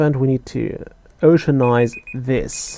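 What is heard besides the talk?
alarm sound in the video game Reus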